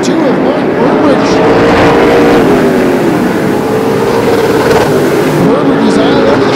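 Pro late model race cars roar around Flamboro Speedway heading into turns three and four on the final laps, a steady dense engine drone with shifting revving tones throughout, with an announcer talking over it.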